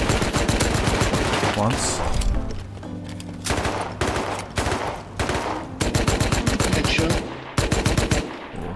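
Automatic gunfire in the survival game Rust crackles in rapid sustained bursts with brief pauses between volleys, loud and close, while a player briefly speaks.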